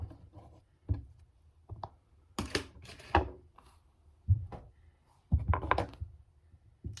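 Knife cutting vegetables for homemade gumbo, a handful of separate thuds and chops on a board with short pauses between them, close and moderately loud, no talking.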